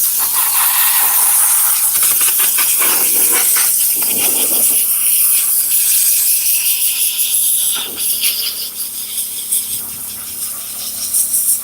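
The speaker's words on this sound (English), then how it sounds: "Now I'm gonna go ahead and steam it." A steam cleaner blasts steam onto the side of a car seat, producing a loud, continuous hiss that runs for about twelve seconds, steady at first and then fluttering slightly.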